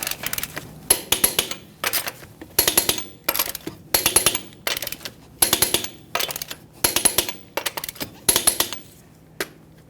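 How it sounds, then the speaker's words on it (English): A torque wrench clicks in short bursts as lug nuts are tightened to 150 foot-pounds in a crisscross pattern on a Ford F-150 front wheel, about a dozen sharp metallic ratchet sounds close by, each followed by a pause. "we're going to torque each one of our lug nuts to 150 foot-pounds in a crisscross manner"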